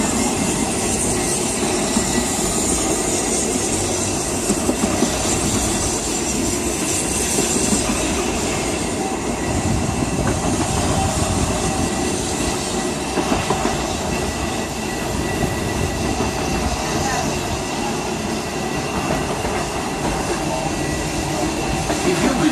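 The Walt Disney World Railroad train rolls steadily along the tracks around the Magic Kingdom with a continuous rumble, faint rhythmic clacking and occasional wheel squeal, loud and close throughout.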